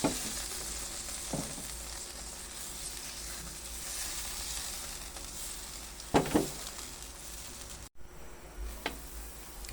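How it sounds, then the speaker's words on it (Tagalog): Broth with tomato, onion and chili simmers in a pot, giving a steady, soft bubbling hiss broken by a few faint knocks and clinks nearby. "So, kukulo na po siya."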